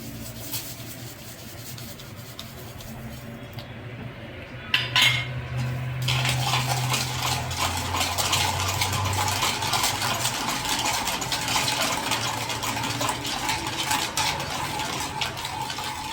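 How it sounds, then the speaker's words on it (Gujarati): A ladle stirs homemade tomato ketchup, cooked from tomatoes and sugar, in a pot. After a brief lull come repeated close metallic scrapes and clinks against the pot over a low steady hum. "ચમચા વડે સતત હલાવી રાખવાનું, નહીંતર તળિયે બેસી જાય."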